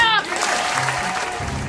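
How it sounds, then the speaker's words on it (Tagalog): After a brief voice at the start, a burst of audience applause in a comedic parody skit, moderately loud and steady. "Palakpak!"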